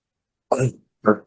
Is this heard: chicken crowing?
no